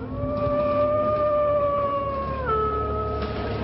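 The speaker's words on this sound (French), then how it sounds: "C'est un loup que nous avons entendu hurler." A wolf-like howl rings out in a French audio drama, a long drawn, slightly wavering tone that drops in pitch midway and carries on steadily, loud and prominent over a faint background.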